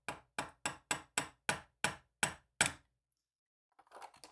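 Nine sharp metallic taps from a small hobby hammer on a metal pin in a scale model kit, evenly spaced and close, followed by a pause and a few faint rustling clicks.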